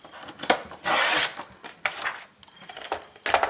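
A groove is scored in album board with a hand tool in short rasping strokes, some brief and one longer, close and fairly quiet. The strokes come in irregular bursts with pauses between them.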